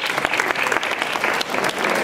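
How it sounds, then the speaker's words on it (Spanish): A crowd at a grape fair in Novelda applauds with brisk, steady clapping; a few louder individual claps stand out through the two seconds. "Es aplauso."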